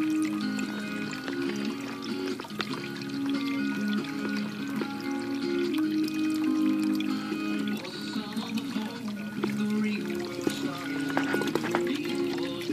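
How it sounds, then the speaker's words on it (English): A pet water fountain filled with fresh cold water trickles and splashes steadily and close by for the whole stretch, a continuous bubbling flow with faint background murmur. "You like that water fountain, don't you"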